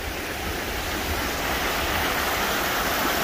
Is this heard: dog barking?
no